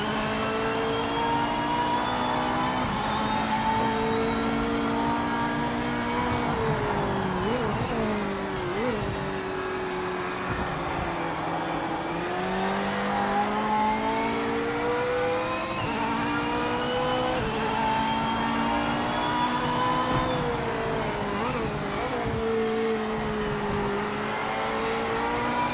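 A race car engine in the Project Motor Racing video game runs loud and continuous, its pitch climbing and dropping through gear changes, with no talking over it.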